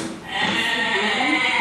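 Two goats bleat as a game show sound effect, a loud, sustained wavering cry that fills the short moment on its own.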